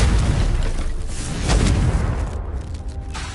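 A Confringo fire spell is cast in Hogwarts Legacy, producing a loud, sustained booming blast with dense low rumble that swells mid-way, then fades slightly, with no voices over it.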